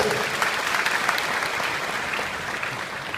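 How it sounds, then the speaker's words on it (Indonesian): An audience at a marketing conference in Indonesia breaks into sustained applause, thick even clapping that holds steady and eases slightly toward the end. "Tepuk tangan untuk Indonesia"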